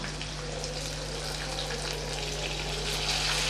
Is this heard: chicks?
no